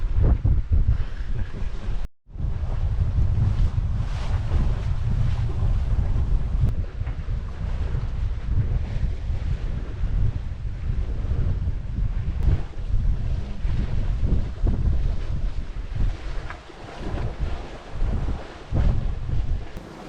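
Strong wind buffets the microphone while a sailboat runs with about 18 knots on the beam near Shetland, a loud continuous roar with rushing water and waves beneath, no talk.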